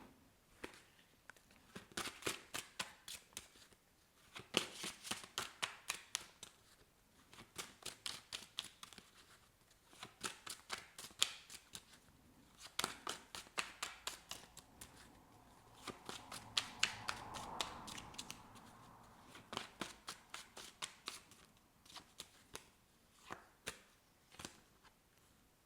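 Tarot cards are shuffled close up in repeated bursts of crisp riffling flutter, with brief pauses between rounds and a softer sliding shuffle in the middle, and no voice.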